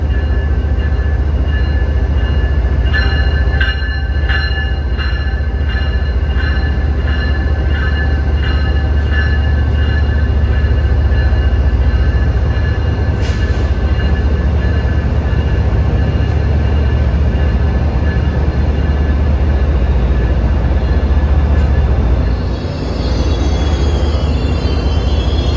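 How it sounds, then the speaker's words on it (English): Amtrak train 174 from Newport News, Virginia arriving: a loud, sustained rumble of a passing train with rhythmic clacking and metallic squeals over a deep steady drone, close and continuous, with no talking. "here comes train 174 from Newport News, Virginia"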